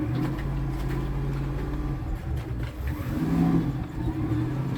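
A cruiser yacht's engine runs in neutral, a steady, loud, close rumbling drone with a slight rise in intensity partway through and no talk over it.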